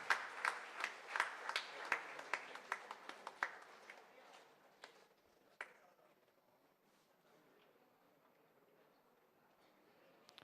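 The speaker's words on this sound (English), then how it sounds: "Let's give a big round of applause and appreciate him." Applause at a college graduation day award presentation, opening with loud, distinct individual claps in a quick rhythm that thin out and fade after about four seconds, leaving quiet hall ambience with a few stray claps.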